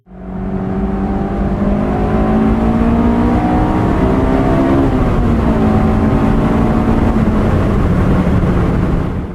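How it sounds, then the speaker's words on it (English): Honda S2000 AP2 sports car with its F22C engine, a loud continuous engine note climbing steadily in pitch, dipping briefly mid-run, then holding high alone. "the Honda S2000, specifically the refined AP2 generation equipped with the F22C engine"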